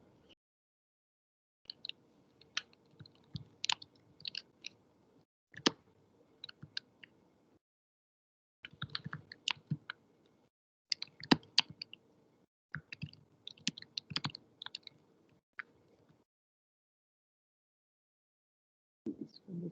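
Bursts of crisp keyboard typing on a computer while a simple program for writing text files is entered, clustered clicks in irregular runs separated by pauses, close and fairly quiet, with no talking.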